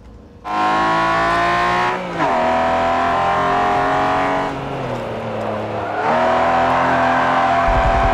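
Car engine in the racing video game Forza Motorsport 7 revving hard while drifting, loud sustained engine tones rising and dipping with gear changes and throttle lifts, with tire squeal mixed in and no talking.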